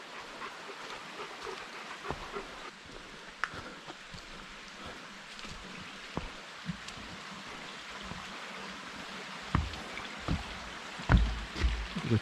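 Water from a forest stream running between rocks beside a small bridge on a hiking trail, a faint steady trickle and gurgle heard from close by, with occasional soft footsteps and knocks.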